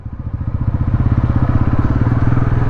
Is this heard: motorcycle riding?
yes